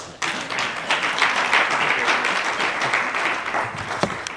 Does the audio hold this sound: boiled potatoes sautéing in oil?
no